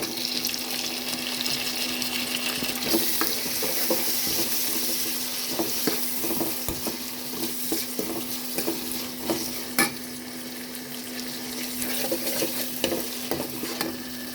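Tomatoes sizzle in a hot pan for a village-style puli kulambu with black-eyed peas, drumstick and brinjal, a steady frying hiss broken by the scrape and clatter of a spoon stirring.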